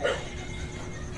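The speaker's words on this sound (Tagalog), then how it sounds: "At ayan yung mga aso niya." Dogs at a house bark and yip in one brief outburst at the very start, followed by steady noisy background with no clear talk.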